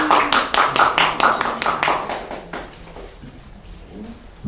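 A small group claps in quick rhythmic unison at a children's observatory project presentation and certificate ceremony, loud and close at first, then thinning into scattered fading claps with a brief voice near the end.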